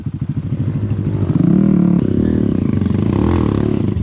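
A Honda Grom minibike engine revs hard on a dirt track, loud and close, its note rising and holding steady with throttle stuck open, a brief clatter in the middle.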